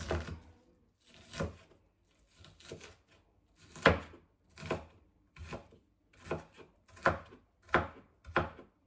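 Fresh onion chopped with a knife on a board: about a dozen crisp, separate chops in an uneven rhythm with short pauses, close and fairly quiet, with no talking.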